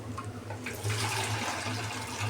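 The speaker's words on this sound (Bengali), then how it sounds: "তো এখন আমি দিয়ে দিব পানি" Water pouring steadily into a cooking pot of khichuri, a close, continuous splashing gush lasting a couple of seconds with no voices.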